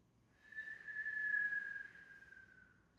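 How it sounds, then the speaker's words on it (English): A single soft, sustained whistle comes from an exhale through pursed lips during a yoga breathing practice. It swells gently and holds a steady pitch for about two seconds, then fades, close and alone. "See if when you exhale, you can find a whistle or just out through a small pinhole through the lips."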